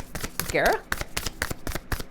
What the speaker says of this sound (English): I'm shuffling, they're quiet, and nothing's coming out